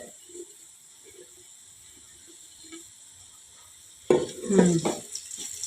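Chutney of roasted peanuts and chilli frying in ghee over a low flame, a soft crackle and faint stirring scrapes that swell into a louder sizzle near the end.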